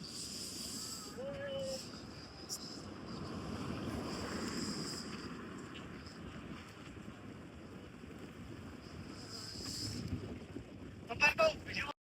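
A river in Mustang rushes in a broad, steady roar, with gusts of wind buffeting the microphone and voices talking over it at times.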